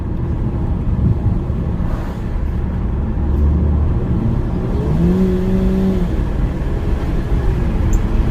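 Car accelerating hard along a small back road, its engine droning steadily and loudly up close with a rising whine midway, no voices over it.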